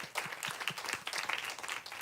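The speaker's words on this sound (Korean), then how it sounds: "다시 한번 우리 축복하면서 박수하겠습니다" A church congregation claps continuously, a dense, fairly faint patter of applause with no voices over it.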